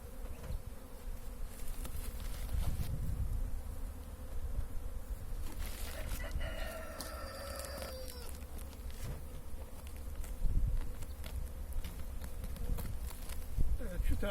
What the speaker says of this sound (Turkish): Arılar çıkacaktır kendiliğinden.